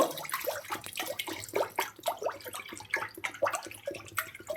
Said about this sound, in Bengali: আমি এক লিটার মতো জল দিয়ে দেব